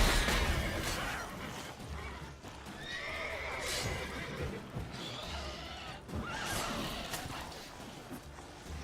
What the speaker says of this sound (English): The horse kicked it, wow.